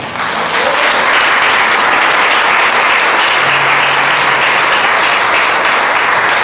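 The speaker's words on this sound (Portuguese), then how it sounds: "Aplauda Jesus por essa palavra." A church congregation applauds during a sermon, with loud, dense, sustained clapping that fills the room from start to finish, with no voice over it.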